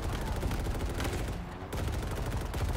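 Sustained rapid automatic fire from the Mulcher gun in Halo Infinite co-op on Legendary difficulty, loud and close, hammering continuously with a brief break midway.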